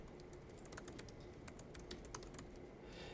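Rapid, faint keystrokes on a computer keyboard while entering NOAA climate data into a web portal, irregular clicks over a steady background hiss.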